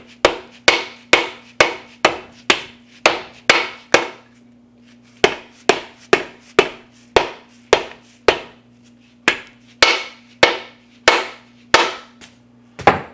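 A mallet raps a Subaru EJ engine case again and again, sharp loud knocks in quick even bursts with one short pause, over a steady low hum in the background.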